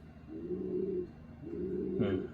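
Racing pigeons in a loft, cooing softly at close range in two low, throaty bursts with a brief pause between.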